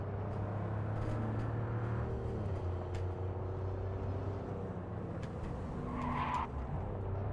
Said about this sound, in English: We're gonna go ahead and ride Johnny's Porsche for a minute